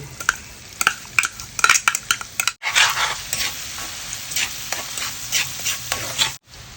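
Minced garlic sizzles in melted butter in a pan, with steady frying hiss and repeated sharp clinks of a spoon stirring against the pan, close and fairly loud.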